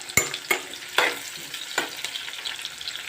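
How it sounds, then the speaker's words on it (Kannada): Green chilies, onion and curry leaves frying in hot oil for a vegetable palya, a steady close sizzle punctuated by several sharp spatter bursts and stirring knocks at roughly half-second intervals, with no talking. "ನೋಡಿ, ಈಗ ಫ್ರೈ ಆಗ್ತಿದೆ"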